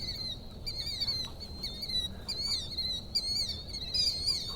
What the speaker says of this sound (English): a bird.